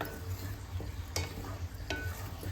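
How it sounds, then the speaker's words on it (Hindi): Amla pieces being stirred with ground spices in hot oil for pickle, a steady close sizzle with scraping spoon strokes against the pan. "आंवलों को सारे मसाले के साथ अच्छी तरह से मिक्स करेंगे।"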